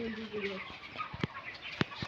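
Farm chickens about 25 days old, roughly 1.5 to 2 kg, clucking softly in a poultry house, with a few sharp knocks and a brief voice near the start.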